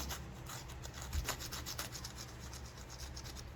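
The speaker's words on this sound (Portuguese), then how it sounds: "E aí, ó, uma lixa 80, ó. Olha lá, ó, lixa 80." 80-grit sandpaper rubs across hardened plaster on a handmade ant figure in quick, quiet back-and-forth strokes, a soft raspy scratching heard close up.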